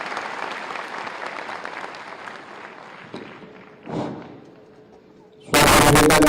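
An audience at a state-level National Youth Day awards event in India applauds a minister's welcome with dense, steady clapping that fades over several seconds, then a sudden loud burst of noise closes it.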